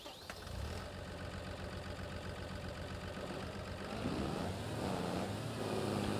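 Tractor engine in a farming video game, hauling a trailer loaded with wheat, runs at a steady, continuous drone that strains and rises slightly in pitch and level toward the end.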